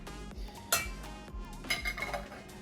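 A utensil stirs vegan mayo mixed with Dijon whole grain mustard in a bowl, making a few soft clinks and scrapes against the dish, with quiet gaps between them.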